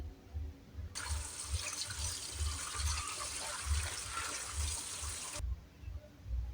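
Running tap water pours steadily for several seconds onto overnight-soaked bean seeds being rinsed, starting and stopping abruptly, with a low rhythmic thumping underneath throughout.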